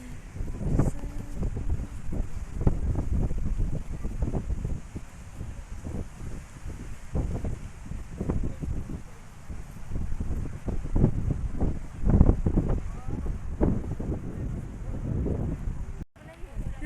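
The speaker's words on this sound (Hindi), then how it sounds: "इतनी तेज हवा चल रही है यहाँ।" Strong wind blowing outdoors at Puri, Odisha, buffeting the microphone in a constant low roar and rushing gusts, with people talking over it throughout.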